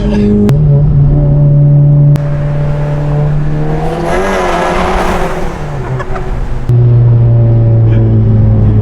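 A 350 HP Volkswagen MK7 GTI revving hard as its wheels spin on wet ground, a loud close engine drone that climbs in a whining surge midway, then settles back to a steady rumble.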